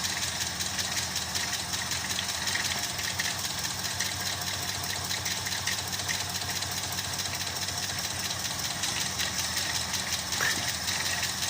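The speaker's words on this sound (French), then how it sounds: "Et le moteur revient à son régime normal, c'est-à-dire il tourne à 4 cylindres." Four-cylinder internal combustion engine running with a faulty spark plug's cable removed, a steady, dense mechanical drone with a faint rhythmic knock that holds at an even level throughout, with no voices.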